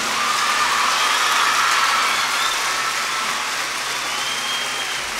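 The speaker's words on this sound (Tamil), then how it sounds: "இவங்களுக்கு உங்களால் எவ்வளோ கைத்தட்ட முடியுமா கைத்தட்டிடுங்க பார்க்கலாம்" Audience at an Achievers Day event clapping for the parents in attendance, a dense, steady wash of applause filling the hall throughout without fading.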